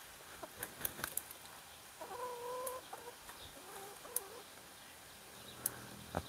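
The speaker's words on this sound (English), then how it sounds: "Well, we can start with the chickens" Chickens in a drought-stricken garden cluck and call in scattered bursts, with one drawn-out squawk, moderately close, with no voices.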